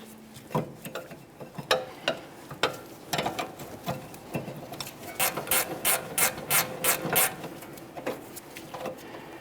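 Ratchet working a brake mounting bolt loose during a rear brake job on a 2013-2015 Chevrolet Malibu: a run of quick, close clicking strokes in bursts, growing denser and brighter toward the end, with no talking.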